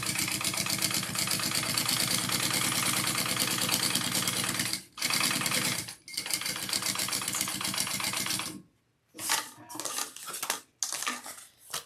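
A sewing machine stitches a Monroe handbag in fast, steady mechanical chattering runs, close and loud, pausing briefly twice before stopping and restarting in short bursts.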